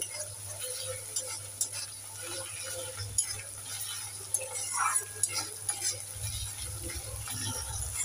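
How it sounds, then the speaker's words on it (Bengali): Onion fries gently in a pan for a tangra fish curry, a soft, low sizzle under occasional stirring clinks and scrapes, with a steady background hum. "পেঁয়াজটাকে আমি বেশি ভাজবো না, হালকা হালকা লাল করে ভেজে নেব"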